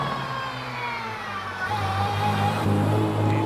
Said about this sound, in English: Next up, it is one of the non-rally cars. In fact, it's the E-Type Jaguar 154 in the hands of Oscar Harding.